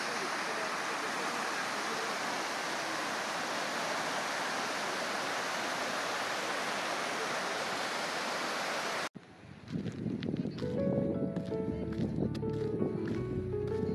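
Steady, broad roar of water rushing through the open lock gates of a dam, loud and continuous for most of the stretch before cutting to quieter, closer sounds near the end.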